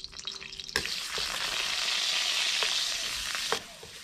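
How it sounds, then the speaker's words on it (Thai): Garlic and coriander root hit two tablespoons of hot oil with a sudden loud sizzle that holds steady for about three seconds, with a few scrapes of stirring, then drops away sharply. "ใส่น้ำมันอันนี้2ช้อนโต๊ะใส่กระเทียมกับรากผักชีลงไปผัดให้หอม"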